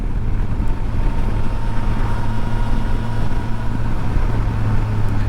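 The big engine of a 2024 Suzuki GSX-S1000GX motorcycle drones steadily at cruising speed, a low even rumble mixed with heavy wind rush, no voices.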